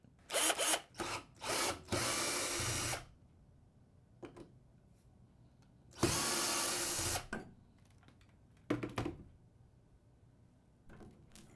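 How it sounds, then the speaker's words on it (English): A power drill removing tone bar screws from a Fender Rhodes piano whirs in several short bursts and two longer runs, with quiet handling and clicks of metal parts between them, close up. "get the drill and just remove these two tone bar screws"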